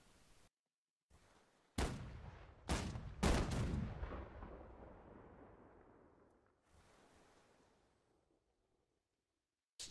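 Several heavy ship cannon blasts in close succession in the naval battle game Holdfast: Nations at War, each deep boom rolling into a long fading rumble, followed by quieter distant thuds.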